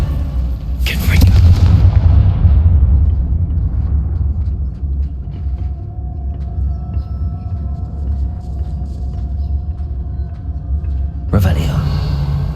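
A rumbling fire-spell explosion from Hogwarts Legacy, a loud boom near the start that decays into a long low rumble, then a second sharp blast near the end.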